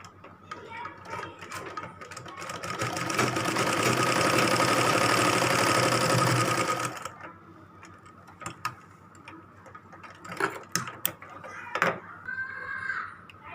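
A sewing machine stitching a gagra skirt runs in one steady, dense whirring burst for about seven seconds, then stops; scattered handling clicks and a voice follow.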